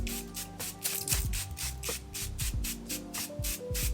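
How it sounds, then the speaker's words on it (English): A spray bottle of facial mist hisses in a rapid series of short mist bursts, close and steady, over a low continuous hum in the background. "So I'm just gonna go ahead and spray some of that now."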